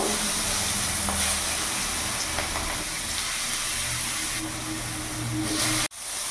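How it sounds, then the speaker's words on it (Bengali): Cut eggplant pieces sizzle steadily in hot oil, the oil already used to fry fish heads, with a continuous loud hiss and crackle that ends in a brief thud. "এবার ওই তেলের মধ্যে আমি এখানে কেটে রাখা বেগুনগুলো ভেজে নেব।"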